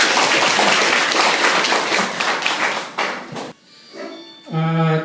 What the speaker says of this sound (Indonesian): Saya kira tepuk tangan untuk kita semua.